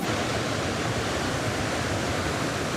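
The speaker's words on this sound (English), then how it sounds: "The sounds of the ocean," Ocean waves wash in a steady, dense roar of surf, loud and continuous with no distinct breaks, heard alone without voices.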